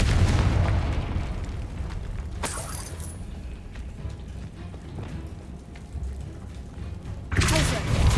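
A Confringo fire spell explosion in Hogwarts Legacy, with a heavy booming blast at the start, a sharp burst near the third second and another at the end, over a rumbling crackling bed of game sound.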